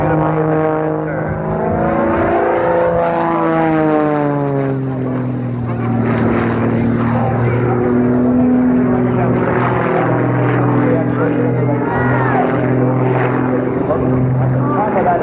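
A propeller aerobatic plane's engine drones steadily with a rising and falling pitch as it pivots overhead in a hammerhead turn at an air show, heard continuously throughout.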